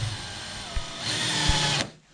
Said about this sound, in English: What I don't want you to do if you are using a drill is over tighten it.